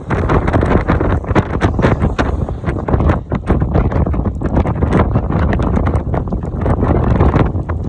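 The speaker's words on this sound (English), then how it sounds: "That's the wind." Strong storm wind with a tornado nearby roars and buffets the microphone nonstop, loud and close, with dense rumbling gusts and crackling flutter through the whole stretch.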